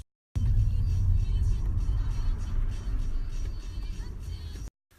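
Car engine rumbling from inside a moving Uber, a steady low drone that holds loud for several seconds and eases slightly before cutting off.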